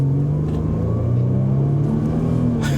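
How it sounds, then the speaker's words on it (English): A supercharged Jaguar XF Sportbrake accelerates with a deep, steady engine rumble heard from inside the car, and faint rising tones sit above it. "that supercharger up front gives you a little whine"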